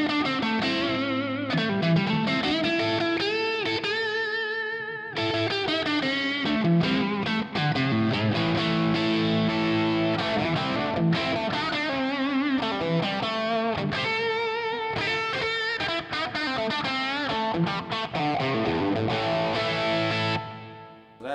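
An electric guitar plays blues licks and chords through a Wizard Leopard overdrive pedal, sounding loud, crunchy and sustained, with bent notes and strummed phrases running continuously with brief pauses.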